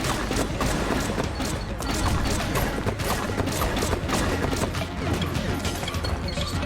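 Dense, constant barrage of gunshots and impacts in the bullet-hell game Enter the Gungeon, with overlapping pops and crashes over a steady bass-heavy background for several seconds.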